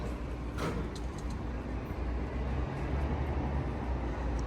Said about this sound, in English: Well, there's all the buses to take us where we need to go.